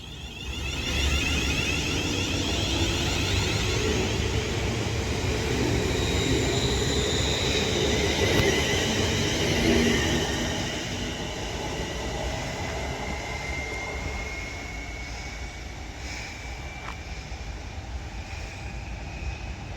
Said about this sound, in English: And as this 350 heads over the Runcorn Bridge to go to its next stop